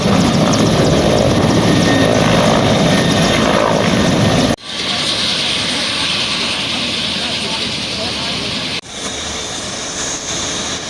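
An Indian Air Force helicopter in a disaster relief demonstration, its rotor and engine making a loud, steady, close roar that breaks off abruptly twice and resumes.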